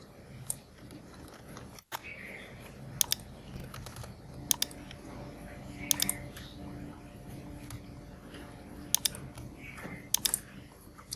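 A computer keyboard clacks as data is typed in for a PostgreSQL table, with soft, irregular keystroke clusters recurring every few seconds against a quiet room.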